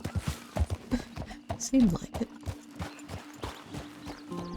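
Horse hooves clip-clop in a steady walking rhythm in Red Dead Redemption 2, close and distinct, under people talking.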